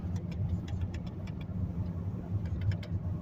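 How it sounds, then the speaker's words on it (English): A 1999 Toyota Camry drives along a road with a steady, low engine and road hum from inside the cabin, continuous and moderately quiet, with no one talking. "Here we are in the Toyota Camry, ladies and gentlemen."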